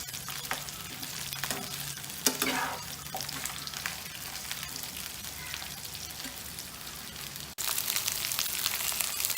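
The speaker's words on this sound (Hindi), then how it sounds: "थोड़ी देर हम इसी तरह चलाते रहेंगे जब तक बैगन पक ना जाए।" Eggplant sizzles and crackles steadily in a hot pan while being stirred, with scraping strokes and a brief clatter partway through, close and continuous with no talking.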